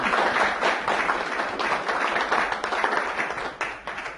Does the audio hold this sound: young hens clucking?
no